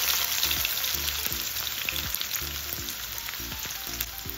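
Onions frying in a pan with fenugreek already in the oil, a soft continuous sizzle with faint crackles and some light clinking, fairly quiet and close, with no talking.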